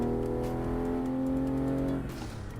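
A real car running Assetto Corsa engine audio, revving at maximum RPM without changing gears, makes a loud, steady high-pitched drone that drops away near the end.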